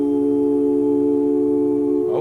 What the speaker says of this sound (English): Let's do one more 1 chord.